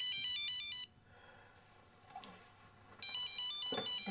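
A telephone rings with an electronic warbling tone in two bursts, the first under a second long and the second starting after about two seconds of quiet; the ring is close and loud, with no talking.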